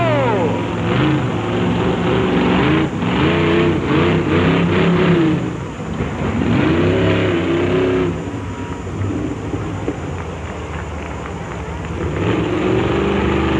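The Crimson Crusher monster truck's big-horsepower engine roaring through a timed run at an arena show in Moncton, a loud sustained rumble that rises and falls with revs while an announcer talks over it.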